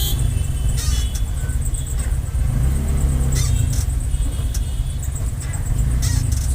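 Dense, slow-moving Chennai road traffic beside Kasi Theatre: a continuous close engine rumble of cars and motorbikes, with occasional revving swells and short bright horn-like bursts over the steady drone.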